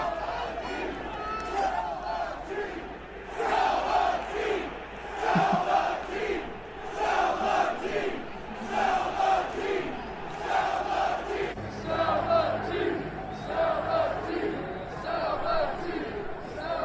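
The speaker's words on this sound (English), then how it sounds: "And attendants started to chant, "Sell the team."" A baseball crowd chants "Sell the team" in a steady, repeated rhythm, loud and massed across the stands, protesting the A's owner during a game, with the rhythmic chanting pulsing through the whole stretch.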